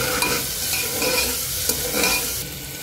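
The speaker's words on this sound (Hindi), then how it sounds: "प्याज में अदरक लहसुन को अच्छे से भून लेंगे।" Ginger-garlic paste fries with onion, turmeric and salt in a pan as a spoon stirs it, giving a steady close sizzle with scraping strokes throughout.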